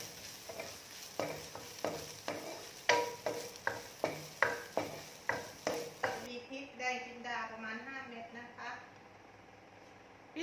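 Pork dry-fried in a pan over medium-low heat, with a run of rhythmic spatula scrapes and taps over a soft sizzle, followed by someone speaking over the quieter frying.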